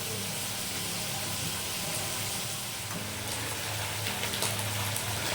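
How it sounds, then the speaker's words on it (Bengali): Prawns for a Bengali bottle gourd and prawn dish fry in oil in a pan, producing a loud, even, close-up sizzle with scattered crackles and spatters. "মাছগুলি ভাজা হয়ে গেছে আমি চিংড়ি মাছ বেশিক্ষণ ধরে ভাজবো না ভাজলে শক্ত হয়ে যায়"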